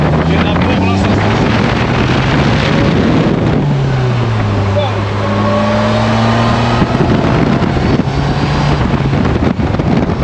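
A Polaris Slingshot three-wheeler drives along with a steady engine drone that rises and falls in pitch as it shifts, under constant loud wind buffeting across the microphone.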